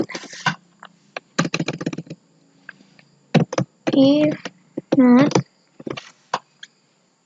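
Short bursts of computer keyboard typing while re-entering an Excel IF NOT formula, clicking in quick irregular clusters, with a person talking between and over the keystrokes.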